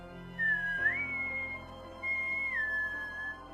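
A lone person whistles two sustained, clear notes with smooth pitch slides, close and moderately loud against near silence.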